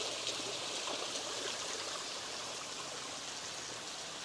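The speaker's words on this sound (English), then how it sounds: "Look how much water is coming out of this thing." Water gushes steadily out of a large leaking tube on a truck camping trip in Oregon in winter, a close, constant hissing rush with no pauses.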